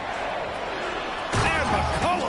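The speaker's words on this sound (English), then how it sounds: "And McCollum slams it in." A slam dunk in an NBA video game, as CJ McCollum throws it down against the Warriors: a loud burst partway through under the game's crowd noise and commentary, with a commentator's voice over it.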